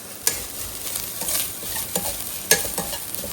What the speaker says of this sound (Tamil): தேங்காயும் வறுத்துக்கலாம்.